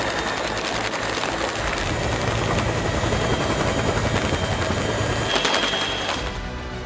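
Army rescue helicopter flying over flooded areas of Sri Lanka during Cyclone Ditwah, a loud steady rotor and turbine drone that holds continuously with no voices.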